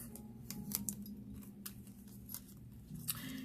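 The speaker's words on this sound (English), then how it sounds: "we are going to use these scissors" Quiet, irregular snips of scissors cutting, a series of small crisp clicks over a low steady hum.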